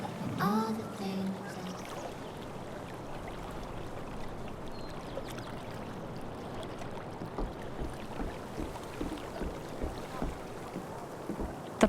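Kayak paddling across calm water in the game Life is Strange: True Colors, soft repeated paddle splashes and water wash under a gentle breeze, with a brief musical tone near the start.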